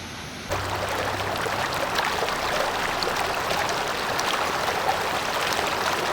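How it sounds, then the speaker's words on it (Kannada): Steady rushing water pours and splashes continuously, loud and close, like a small waterfall, at a lake beside Sri Kodi Siddheshwara temple, Halenijagallu, with no voices. "ಇಲ್ಲಿ ಫಾಲ್ಸ್ ಹರಿದಂಗೆ ಫ್ಲೋ ಆಗ್ತಿದೆ ನೀರು"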